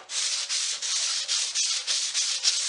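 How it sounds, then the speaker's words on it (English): Quarter sawn oak hand sanded with 150-grit paper on a block, a close, steady scratchy rasp in regular back-and-forth strokes of about a quarter second each, with no voices. "As far as how I'm going to sand this, 150 on a block"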